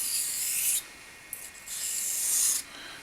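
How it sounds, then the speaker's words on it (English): A straight razor stroked along a Naniwa whetstone, two long hissing scrapes plus a short one, close and crisp with brief pauses between strokes. "Now I'm going to do about 20 X strokes mixed with straight down the hone strokes."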